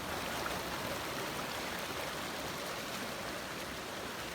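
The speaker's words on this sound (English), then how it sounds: "A lot of water rolling down through there." Flood water rushing down a swollen creek that has nearly topped its banks after heavy rain, a dense continuous hiss and roar of moving water with no voices over it.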